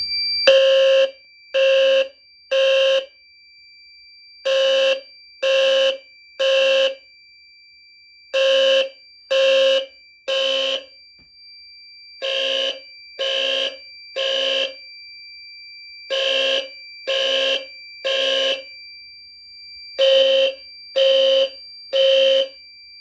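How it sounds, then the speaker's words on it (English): A Simplex fire alarm sounds after a pull station is activated: loud, close electronic horn blasts in steady groups of three, each group separated by a short pause, repeating with no voices over it. "to start off today's test, I'm going to pull the Simplex pull station."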